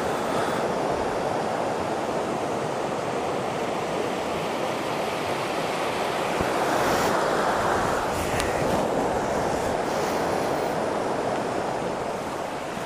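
Steady broadband rush of a river flowing beside a roadside stop, loud and continuous like surf or a waterfall, with some wind buffeting the microphone and no talking.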